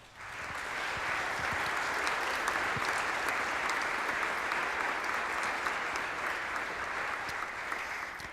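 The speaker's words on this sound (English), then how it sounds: "If you could give them a round of applause" A school concert audience at an Iowa City West High School band evening gives a sustained round of applause for district administrators, a dense even wash of many hands clapping that swells in and holds steady, with no talk over it.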